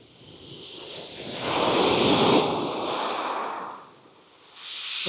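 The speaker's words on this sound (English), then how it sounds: "I think that might be the little series of waves that denote the change in the tide." Ocean waves at the change of the tide, a swelling surge of surf that builds to a loud rush, recedes, then rises again, with wind buffeting the microphone.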